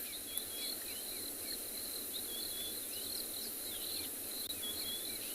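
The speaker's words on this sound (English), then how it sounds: "I think there's far more insects that are starting to fly around. I can hear a few buzzing around my head." Crickets and other insects chirr steadily at dusk on a safari, a constant high shrill drone with scattered faint chirps layered over a quiet outdoor background.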